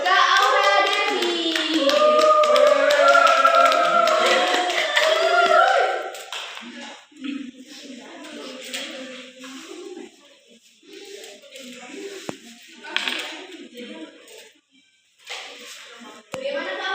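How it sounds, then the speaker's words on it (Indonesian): An audience at a university event gives lively applause, a dense burst of clapping for about six seconds before it thins into scattered claps under a speaking voice. "Beri tepuk tangan yang meriah dan kita sambut Kak Aura Devi."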